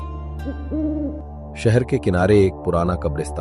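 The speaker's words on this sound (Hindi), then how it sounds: "दूर किसी पुराने पेड़ से उल्लू की आवाज गूंज रही" An owl hoots twice from an old tree at night near an old graveyard, two short steady tones early on, before a narrator starts talking over a quiet background.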